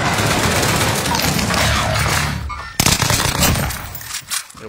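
Light machine gun fire in an online multiplayer video game, a dense sustained burst of rapid loud shots, a short break, then more scattered bursts and impacts.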